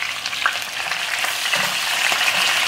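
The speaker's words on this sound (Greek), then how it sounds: "σοτάρουμε πάντα σε δυνατή φωτιά και όχι σε χαμηλή" Meat sautés in a pan over high heat with a loud, close, continuous sizzle. Occasional stirring scrapes and spits are heard, and no one talks.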